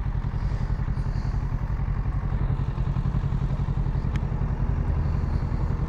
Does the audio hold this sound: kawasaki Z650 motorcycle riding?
yes